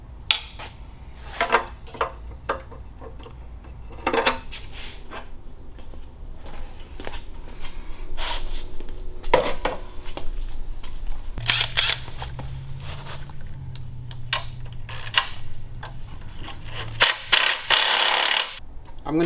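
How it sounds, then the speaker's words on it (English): A 13mm wrench clinks and ratchets while bolting a center exit drag pipe exhaust onto a Tillotson 212 small engine, giving scattered close metallic clicks and clanks with brief pauses between them. "We're going to install this center exit drag pipe using a 13mm wrench."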